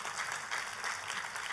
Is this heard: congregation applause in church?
yes